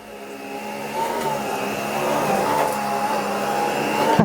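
Miele HX2 cordless stick vacuum running on its lowest suction setting, a steady, fairly quiet motor whine with a faint high tone that holds evenly and swells slightly over a few seconds, with no talking.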